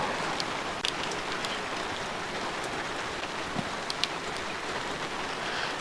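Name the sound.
rain with some sleet falling outdoors at a camp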